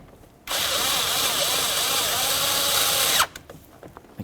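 Power drill driving in a mounting bolt while replacing a cruise control switch on a 2007-2012 Dodge Caliber, a single loud continuous whir of about three seconds, close up, with brief clicks after it stops.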